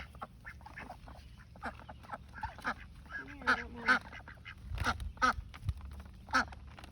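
Ducks, including khaki drakes, quack in scattered bursts, a few louder, nasal calls standing out from soft background murmuring and rustle, fairly close but quiet overall.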